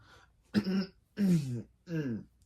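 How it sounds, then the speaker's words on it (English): Three separate coughs or throat-clearing bursts, close and fairly loud, each short and harsh, spaced about half a second apart with quiet between. "I was just coughing"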